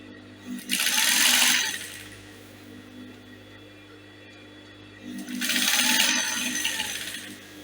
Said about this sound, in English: So I'm going to stitch it.